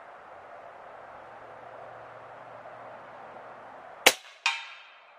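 A Snowpeak M60B .357 (9mm) air rifle fires outdoors: one sharp, loud crack, then a second snapping report about half a second later, over steady wind or background hiss.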